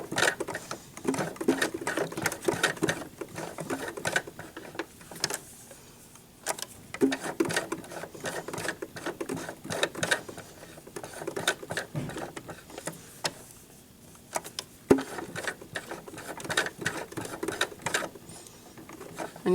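A sewing machine stitches a duck-shaped pillow in a continuous, close rapid patter, with steady needle ticking that briefly slows and resumes.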